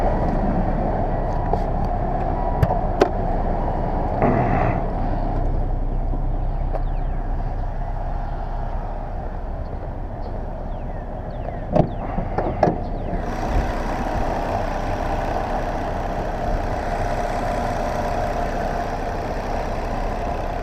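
A 1999 Volvo S80 T6 twin-turbo engine runs at a steady idle in the open engine bay, a continuous low hum with a few brief clicks and knocks, heard alone without talk.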